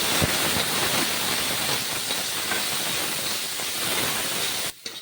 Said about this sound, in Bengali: চিংড়ি সুটকিটাকে খুব ভালো করে ভেজে নেব